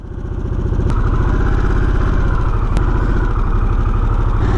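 A Harley-Davidson Sportster S motorcycle engine starting up and settling into a loud, steady, close idle with an even low throbbing pulse and faint clicks, with no one talking.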